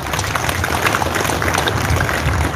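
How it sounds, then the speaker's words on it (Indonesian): Sustained applause from an audience at a Samosir police award ceremony honouring a police vaccinator team, a dense, even clatter of many hands clapping close by for the whole stretch, with no voices above it. "Sekali lagi mari kita berikan tepuk tangan."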